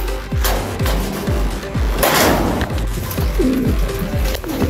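Racing pigeons arriving home at the loft after a long-distance road race, cooing in repeated low, rhythmic calls close by, with a busy background of rustling and clatter throughout.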